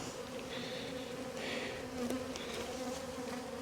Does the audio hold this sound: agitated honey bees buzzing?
yes